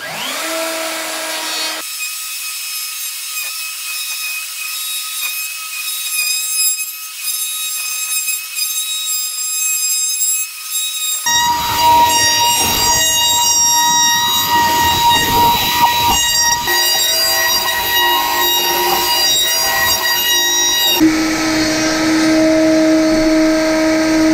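A woodworking router cuts into a rustic wooden stool seat, a loud continuous tonal whine that starts after a short silence and grows denser and harsher partway through, running steadily without speech.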